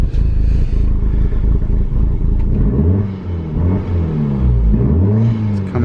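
Idling engine of a Mk4 Volkswagen Golf GTI with an exhaust leak: a steady, loud low rumble with some rattly clatter near the start, continuous throughout with no talk.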